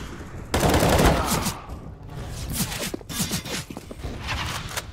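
CS:GO video game gunfire crackles in quick bursts, loud and close, with rapid repeated shots and sharp clicks over several seconds.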